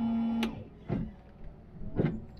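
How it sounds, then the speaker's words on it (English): Windshield wipers sweeping on a Chevrolet Corvair Monza, three separate swishes about half a second to a second apart, each with a mechanical whir, fairly close and with no talk over them. "Wipers."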